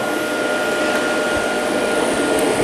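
Water heated by a portable power station starts to boil, giving a steady, loud, rushing hiss with no pauses.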